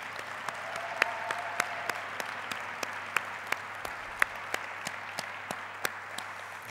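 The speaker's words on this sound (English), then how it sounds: "he deserves a tremendous amount of applause from us for his work" Steady applause from a conference audience fills a large room, a dense wash of many hands with individual sharp claps standing out, moderately distant and continuous throughout.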